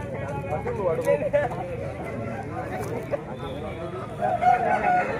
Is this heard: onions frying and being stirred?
no